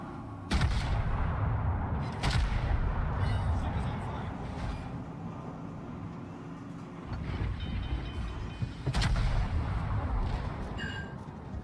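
Rear gun batteries of a warship fire in World of Warships naval combat, heavy booming salvos recurring every few seconds over a constant rumbling engine and sea drone, with spoken commentary in between.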